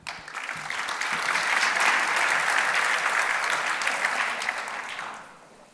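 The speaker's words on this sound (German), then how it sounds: "Ein herzlicher Applaus für Leon," Warm audience applause at a conference talk, a dense crowd clapping that swells, holds steady, then fades away at the end.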